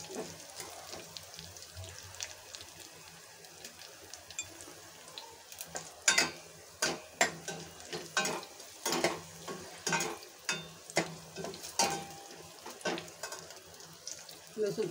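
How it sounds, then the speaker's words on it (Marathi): Garlic frying in oil in a pan while making kadhi, with a steady low sizzle and repeated sharp scraping stirs of a spoon against the pan in the second half, close by, no talk. "लसूण चांगलं लालसर होऊ द्यायचं आहे।"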